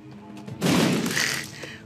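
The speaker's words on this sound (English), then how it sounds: "So many explosions" A burst of booming explosions erupts suddenly in the video game The Binding of Isaac and rumbles for about a second, loud and close, amid game sound effects.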